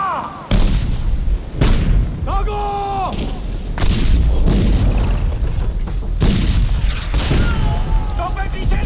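Heavy cannon fire during the Maratha siege of Udgir fort: a string of loud, booming artillery blasts roughly a second apart, each trailing into rumble, with a brief wavering voice-like cry between shots.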